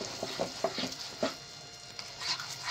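Honey being mixed into a sauce for hot chicken wings, a few soft scraping stirs with faint sizzling and light clinks, close by and fairly quiet.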